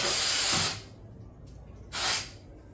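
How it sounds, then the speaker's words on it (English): Two bursts of aerosol spray inside a cupboard to keep pests away, a long loud hiss of under a second followed by a shorter one after a quiet pause, heard up close. "because once you spray out the place, you know them not coming there"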